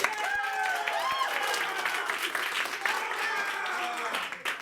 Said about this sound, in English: I need a big round of applause.